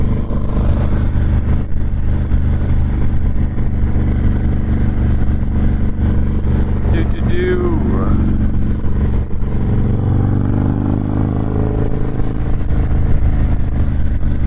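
A Harley-Davidson Dyna Low Rider S cruising on the road, a loud, steady engine drone with wind rush throughout and a short mechanical whine partway through.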